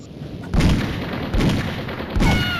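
Repeated sniper rifle shots in the Mini Militia video game, three booming blasts spaced about a second apart, loud and close with short decays.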